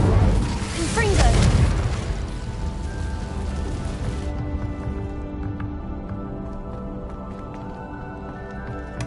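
A Confringo explosive spell in Hogwarts Legacy bursts with a loud, deep boom early on, then fades into a long rumbling, crackling decay mixed with game ambience.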